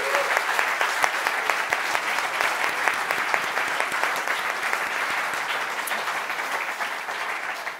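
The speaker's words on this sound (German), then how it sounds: "Ein Applaus für alle Kandidierenden." Audience applause for the candidates at a Bundestag election 2021 candidate roast event, steady dense clapping from a crowd lasting throughout, fairly close and even in level.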